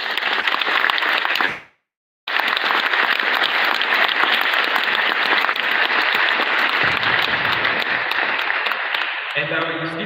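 Sustained loud applause from an audience at a women-in-law awards ceremony fills the room, broken by a brief cut to silence, then continuing as dense steady clapping with a voice faintly entering near the end.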